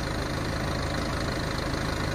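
John Deere 310D backhoe engine running at a steady idle, a loud, close, continuous diesel rumble with an even throb and no voices.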